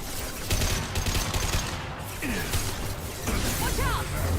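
Dense, continuous gunfire from the Mass Effect video game rattles without a break, mixed with whooshes and mechanical clatter under a busy game soundscape.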